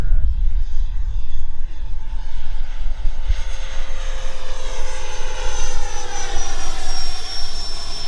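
An FMS Integral 80mm EDF RC jet flies a pass, its ducted fan giving a steady loud whooshing whine that rises in pitch as it nears and passes, continuous throughout.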